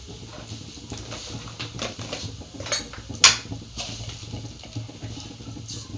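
A metal spoon clinks against a hot kadhai as cumin seeds, asafoetida and mustard seeds go in, giving scattered light taps and one sharp metallic clink at close range over a soft sizzling hiss.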